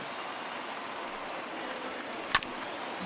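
Big stadium crowd in MLB The Show 20 gives a steady, even roar of cheering throughout, with a single sharp crack partway through.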